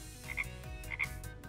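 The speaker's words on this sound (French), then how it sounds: "Oh! Il y a tant de grenouilles!" Frogs croak in two short bursts about half a second apart, close and clear over a steady background, at a children's indoor playground.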